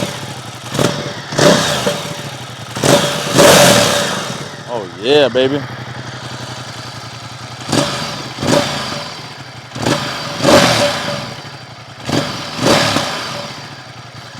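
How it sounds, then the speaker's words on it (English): A Ducati XDiavel motorcycle with its stock exhaust is revved close up in a series of deep, punchy throttle blips separated by idle, with someone speaking briefly between the revs. "All right, let's give it a couple revs."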